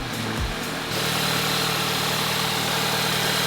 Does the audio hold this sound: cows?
no